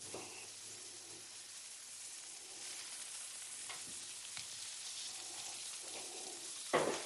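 Steak and vegetables searing in oil on a hot griddle give a steady, even sizzle and crackle throughout, close and moderately quiet, with a brief clatter at the end.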